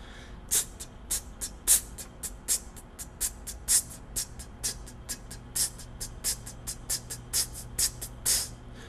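A mouth imitates a hi-hat with a steady run of crisp, breathy 'tss' hits, about two per second, close up with no talking.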